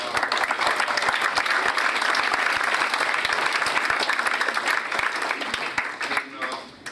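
Audience applause at a Husky Fest gathering, a dense steady burst of many hands clapping close and loud for most of the stretch, thinning out near the end with scattered claps.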